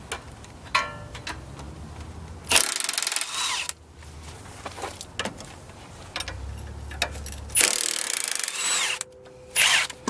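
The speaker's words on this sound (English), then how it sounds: "we're going to use our trusty Milwaukee 18-bolt impact to remove that" Milwaukee 18-volt half-inch impact wrench removing an axle nut on an AWD vehicle, delivering repeated loud hammering bursts with brief gaps between them, close up over workshop background noise.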